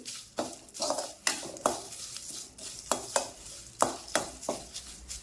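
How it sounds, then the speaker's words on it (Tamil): Curry leaves, about a handful, dry-roasting in a pan while rasam powder is made, with a utensil scraping and stirring in repeated sharp clacks and rustles, close and moderately loud, no talking. "ஒரு கைப்பிடி அளவு கருவேப்பிலை கருவேப்பிலை போட்டு இதை கொஞ்சம் வறுத்துட்டு"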